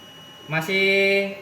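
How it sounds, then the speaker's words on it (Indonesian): An electronic alarm on a temperature-control device for aquaculture lab equipment sounds one sustained, loud, steady tonal beep lasting under a second, close up, preceded by a short higher chirp. "Alarm tadi saya atur tadi bunyinya."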